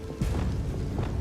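A Confringo spell blast goes off in Hogwarts Legacy, a sustained low boom lasting about a second at moderate loudness, with no voices over it.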